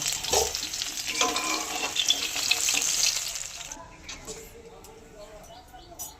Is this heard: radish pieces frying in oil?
yes